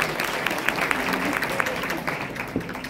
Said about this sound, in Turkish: Bu yüzden güzel alkışlar lütfen kendinize gelsin.